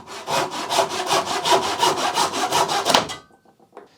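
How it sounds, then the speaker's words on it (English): A small Pax dovetail hand saw with teeth in need of sharpening cuts through wood in about a dozen quick, even back-and-forth rasping strokes, close and clear, then stops with a few faint scrapes. "The little dovetail saw."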